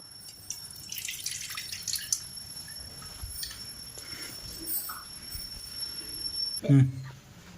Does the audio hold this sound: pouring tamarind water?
yes